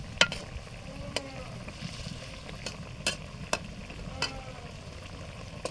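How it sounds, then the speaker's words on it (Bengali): Fish curry with homemade spices stirred in a frying pan in a village kitchen: a steady sizzle of frying under repeated sharp scrapes and taps of a spoon against the pan, close and fairly quiet, with no talking. "এবার একটু নেড়ে চেড়ে মিক্স করে দিতে হবে"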